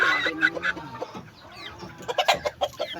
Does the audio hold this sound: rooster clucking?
yes